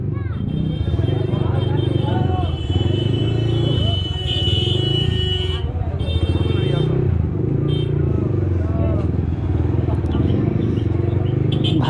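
A motorbike with a bunny-styled helmet cover rides through a busy market, its engine droning steadily close by, with crowd babble and a rider's voice heard over it.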